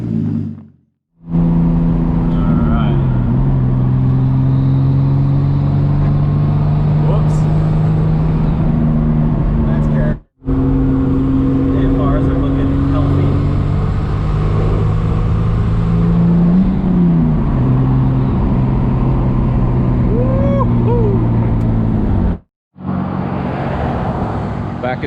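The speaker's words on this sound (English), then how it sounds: "Now we're going for test drive number 2." A Datsun 240Z fitted with an RB25DET engine roars on a test drive, its loud engine note rising and falling through gear changes, heard up close over road rumble with two brief dropouts.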